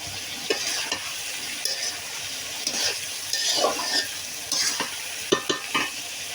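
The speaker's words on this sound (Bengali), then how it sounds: "কাঁচামরিচের ফালি এবং পেঁয়াজ কুচি দিয়ে দিলাম।" Sliced green chillies and chopped onion frying with bottle gourd in a pan, a steady close sizzle broken by repeated stirring scrapes and light clinks of a utensil against the pan.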